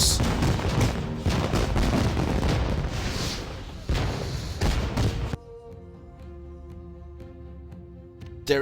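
Explosions and gunfire in the Panzar video game: a dense barrage of booms and rapid shots, then an abrupt drop to quieter tonal game sound with a final bang at the end.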